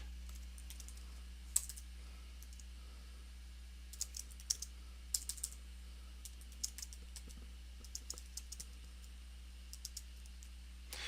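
Light keystrokes on a computer keyboard come in short, sparse bursts of crisp clicks over a steady low hum, as a phrase is typed into an email.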